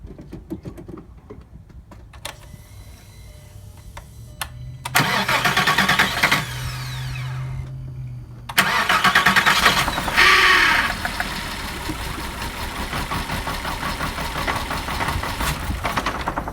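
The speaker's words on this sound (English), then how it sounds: "I'm going to start it and see if bad ground could have been our issue." A VW MK4 Jetta engine cranks, stalls, cranks again and catches, then settles into a rough, knocking idle; the firing order is wrong with cylinders 2 and 4 swapped.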